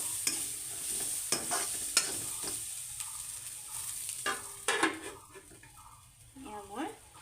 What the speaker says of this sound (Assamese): কণীখিনি ভালকৈ সিজাৰ পিছত শাকখিনিৰ লগত ভালদৰে মিক্স কৰি পেলাম।